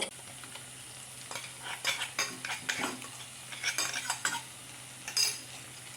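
Ground fried spice mix with dried fenugreek being stirred into tofu in a pan: repeated scraping and clinking strokes of a utensil over a quiet sizzle, close and fairly soft, with a brief pause mid-way.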